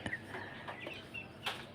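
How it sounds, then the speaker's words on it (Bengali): Kadaknath and Silkie chickens kept in a farm cage give soft, scattered clucks, a few short calls spread over a couple of seconds, faint and fairly close against a quiet background. "আমাদের খামারে দেখছেন কাদারনাথ মুরগি আর একটা আছে সিল্কি মুরগি"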